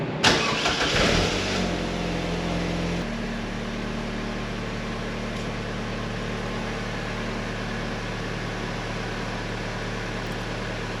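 A Vauxhall VX220 2.2 engine starting after a service: a short cranking burst that catches, revs briefly, then settles into a steady, close idle hum.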